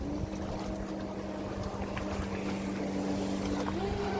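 A Volantex Angry Shark RC speedboat on a 4S battery runs across water with a steady, high motor whine that rises in pitch near the end, amid continuous wind noise and water hiss.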